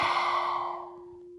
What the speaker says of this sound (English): take a deep breath out of the mouth